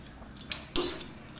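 Noodles are tossed in a pan with a utensil, giving two distinct metallic scrapes and clinks close by, each trailing off briefly.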